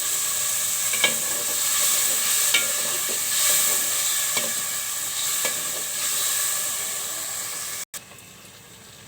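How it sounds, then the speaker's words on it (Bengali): Tomatoes stir-fried with spices in a pan for hilsa curry sizzle continuously, with occasional spatula scrapes and taps, close and steady before a brief cut near the end. "টমেটোগুলো একটু কষিয়ে নিলাম।"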